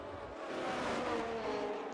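Ferrari Formula 1 race car in an F1 racing video game, engine note held steady at high revs with a continuous whine, fairly loud and close, no talking.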